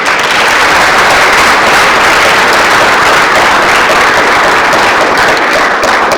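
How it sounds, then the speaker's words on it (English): An audience gives a panel discussion a final round of applause, a loud, dense and continuous wash of clapping with no break. "can we give them a final clap?"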